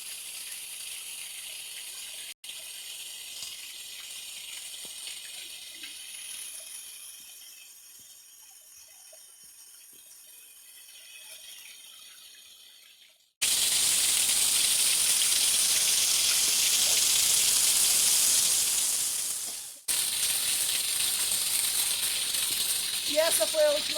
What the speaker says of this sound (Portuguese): E essa foi a última cachoeira do nosso mini tour